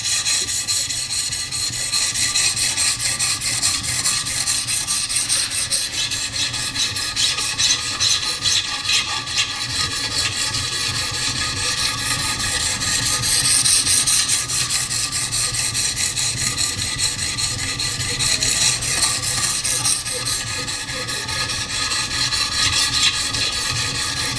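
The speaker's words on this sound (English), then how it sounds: "we'll test it out, see how quick this thing sharpens" Knife blade sharpened on a XARILK sharpener system, a repeated rasping, scraping stroke against the stone in a steady back-and-forth rhythm, close and continuous with no talking.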